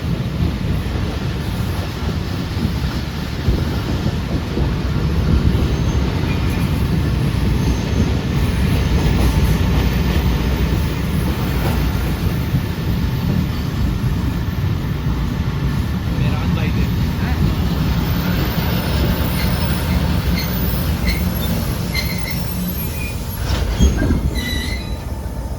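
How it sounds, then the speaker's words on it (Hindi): Train coming to a halt at a railway station on the Shah Latif 151UP service between Karachi and Hyderabad, a steady loud rumble of rolling cars with metallic wheel squeals rising toward the end, wind buffeting throughout and people talking. "ट्रेन रुक चुकी है हमारी।"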